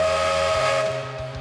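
A cartoon steam train whistle shrieks loud and steady for just over a second as the train approaches, sounding alone with no talk over it.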